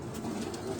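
A soft, low pigeon coo, brief and faint against a quiet background, with no talking.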